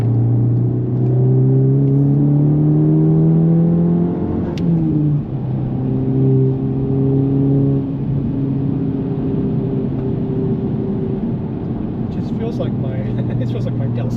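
A 2025 Honda Civic Type R with a stage 1 intake accelerates steadily, its engine note climbing through gears with a brief dip around a shift, intake and exhaust droning loud and close inside the cabin.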